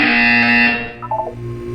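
A loud, harsh electronic buzzer blares for under a second, followed by a short descending run of beeping tones, in the video game Portal 2.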